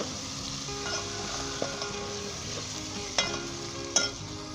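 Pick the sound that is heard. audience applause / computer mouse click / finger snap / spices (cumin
spices (cumin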